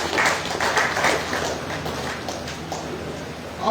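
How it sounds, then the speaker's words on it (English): An audience at a society heritage lecture applauds an honoured guest, the clapping moderately loud and uneven with pulsing surges, some individual claps standing out near the listener, and no speech over it. "Can we please give him a round of applause?"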